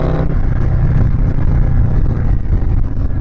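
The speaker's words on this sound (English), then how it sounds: "especially when I'm riding a motorcycle that does this" Custom Stage III Harley-Davidson Sport Glide motorcycle engine rumbling loudly and steadily throughout, a deep continuous drone with some wind buffeting, heard close up without talk.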